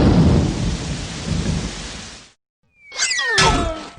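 Thunderstorm sound effect from the You Don't Know Jack trivia game: loud, dense rain with rumbling thunder that cuts off abruptly, followed after a brief silence by a burst of crackling thunder with whistling, zapping tones.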